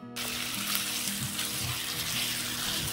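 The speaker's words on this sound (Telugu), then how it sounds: "ఆనియన్ ఫ్రై అయిన తర్వాత చికెన్ వేసుకొని, చికెన్లో ఉన్న వాటర్ మొత్తం దగ్గర పడేంత వరకు ఫ్రై చేసుకోవాలి" Country chicken fries in oil in a pan after the onions, giving a steady bright sizzle that starts abruptly and holds evenly, with a low hum and faint clinks beneath and no speech.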